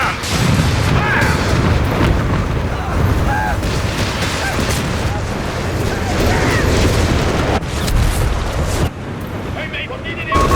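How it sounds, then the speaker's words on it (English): Anti-tank guns fire in Company of Heroes 3 during a 4v4 battle with a Panzer IV, heavy booming blasts thudding through a dense, loud wall of battlefield noise while a voice talks over it. "Anti-tank crews are on standby for orders. Stand by, all guns. Fire!"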